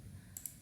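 Two quick, crisp computer mouse clicks land close together while an object is dragged in ArchiCAD software, faint and close against a quiet room background.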